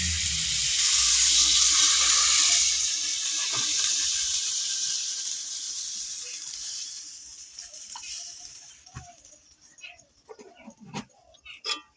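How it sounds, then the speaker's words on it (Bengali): Water pours into a pan of potato and papad curry with a loud sizzling gush over the first few seconds, then fades into quieter bubbling and scattered clinks of a spoon against the pan. "এবার দিয়ে দেবো পরিমাণ মতো জল।"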